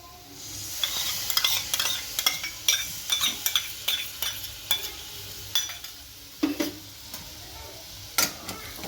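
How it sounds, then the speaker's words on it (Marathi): Yogurt being stirred into a besan and onion masala in a pan for whole onion bhaji, with repeated scraping spoon strokes in an uneven rhythm over a faint sizzle, close and fairly quiet with no talking. "तर आता दही पण मी मिक्स करून घेते मसाल्यात चांगली अशी मिक्स करून घेणार आहे दही"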